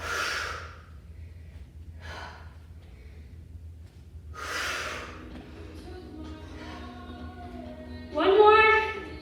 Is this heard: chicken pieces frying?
no